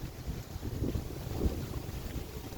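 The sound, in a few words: wind blowing by the parking lot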